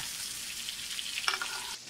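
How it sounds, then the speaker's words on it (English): Ribeye steak frying in a pan while butter and garlic are spooned over it, a bright continuous sizzle with a brief metallic spoon tap and splash near the end, close and steady, no voices. "Start spooning the butter."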